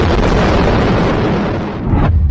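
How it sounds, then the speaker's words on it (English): A powerful explosion from a nighttime drone attack on the city of Rylsk in Russia's Kursk region: a loud, close blast with a rolling rumble that lasts about two seconds, with no voices. "The moment of one of the powerful explosions was caught on video."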